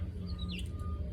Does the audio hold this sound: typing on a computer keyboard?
no